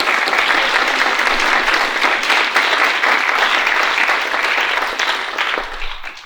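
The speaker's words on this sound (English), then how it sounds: "Can we give them another round of applause?" Loud, dense audience applause at a Constitution Day program, sustained clapping from a large crowd that tapers off near the end.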